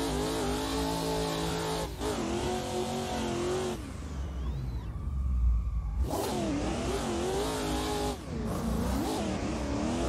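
A BMW M4 drift car in a racing video game, engine revving hard with sustained high-pitched harmonics that rise and fall, briefly easing off mid-run before roaring back loud and close.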